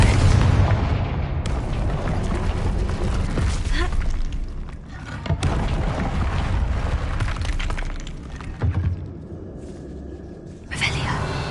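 Confringo fire spell blasts in Hogwarts Legacy, loud booming explosions with crackling debris and sharp impacts over a rumbling battle din, several bursts in quick succession with a voice calling out between them.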